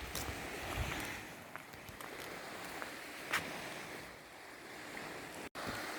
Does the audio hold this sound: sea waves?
yes